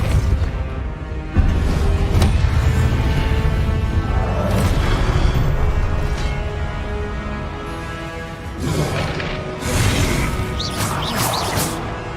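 Depulso spellcasting in the Hogwarts Legacy video game, with loud whooshing bursts followed by crashing, booming impacts that repeat over a dense, continuous backdrop of game effects.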